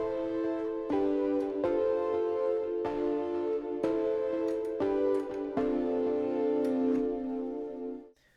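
Sustained piano chords struck one after another at an even pace, each ringing into the next, with the harmony stepping downward before fading out.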